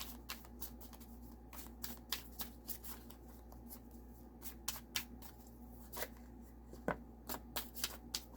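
Osho tarot cards shuffled by hand, a steady run of soft riffling flicks and crisp taps, some sharper than others, close and quiet against a low hum, with no talking.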